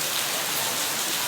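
Steady rain pours down at a railway station, a dense, even hiss of drops on surfaces with no voices heard.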